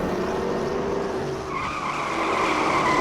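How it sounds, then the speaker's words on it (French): A race car at a Festi-Drag drag racing event spins a full 360 and skids, tires squealing loudly and continuously over a roaring engine. "Et là, la voiture construction Béliga part en 360."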